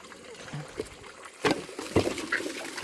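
Water gurgles and splashes through the intake pipe of a deck aquaponics setup clogged with roots, quiet trickling broken by two sharper sloshing bursts, with faint background sounds.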